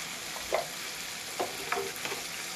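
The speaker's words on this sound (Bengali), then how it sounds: "এইভাবে কিছুক্ষণ ভাজতে থাকবো" Eggplant frying in mustard-style fish oil in a pan, a steady soft sizzle with a few brief clinks or scrapes of a spatula, close and continuous without talk.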